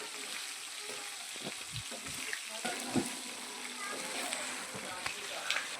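Curry leaves frying in hot oil make a steady, close sizzle with soft crackles and a few sharper pops throughout, and faint kitchen clatter sits underneath.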